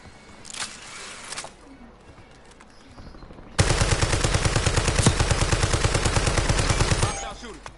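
Enemy automatic gunfire in the video game Call of Duty Warzone Resurgence on Rebirth Island: a couple of short distant bursts, then a long loud rapid rattling volley lasting several seconds before cutting off.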